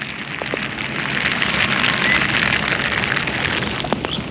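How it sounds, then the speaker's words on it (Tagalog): Steady typhoon rain in Pampanga hissing down without a break, a dense even wash of noise with no voices. "napapalibutan tayo ng sama ng panahon at patuloy ang pag-ulan"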